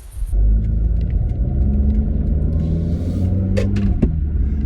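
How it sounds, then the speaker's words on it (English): A Mazda Tribute SUV pulls away, its engine settling into a loud, steady low rumble close to the listener, with a few brief clicks and knocks over the continuous drone. "now that you are familiar with this lovely little Mazda Tribute, it's time to take it out for a drive"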